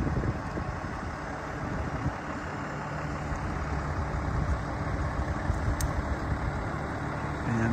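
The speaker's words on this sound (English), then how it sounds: "nice Cummins diesel engine" A four-wheel-drive 2014 Ram 5500 boom lift truck with a Cummins diesel engine idles steadily nearby, a continuous low rumble with a faint tonal hum that holds an even level throughout.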